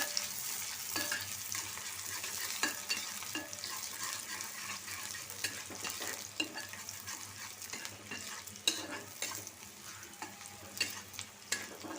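Onion and garlic frying in a pan, with a continuous close sizzle and frequent scraping stir strokes, some sharper clicks of the spatula, moderately loud with no talking.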